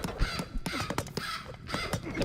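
Flock of birds cawing repeatedly in a rapid, overlapping series of harsh calls during a match of the strategy game Age of Mythology, loud and close with no talk.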